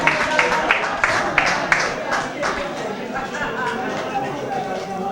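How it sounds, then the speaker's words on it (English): Audience at a town hall meeting in Molineux clapping in a dense, steady patter of many hands, with a few sharper claps at the start and crowd murmur beneath throughout. "Give the man a round of applause"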